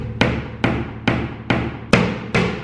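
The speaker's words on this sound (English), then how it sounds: "hammering" Hammer blows striking at a steady pace during house painting work, six sharp, loud, close impacts about half a second apart, each ringing briefly before the next, with no talking.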